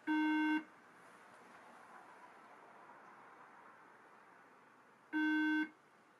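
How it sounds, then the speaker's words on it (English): A Late 2009 27-inch iMac sounds two loud, steady electronic beeps at power-on with its RAM missing, each about half a second long and several seconds apart, over a faint hiss. "it's giving me these beeps. Well, the beeping was due to my failure to put in the RAM."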